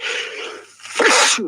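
A single sharp human sneeze bursts out loud and close after a brief lull, preceded by a rushing intake of breath, with no talk over it.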